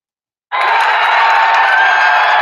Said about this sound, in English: Oh, this is a nice crowd sound.